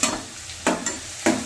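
Garlic sizzles softly in a pan as a puffed rice snack is cooked. Three quick, scraping stirs cut through the low frying hiss at a close, even rhythm.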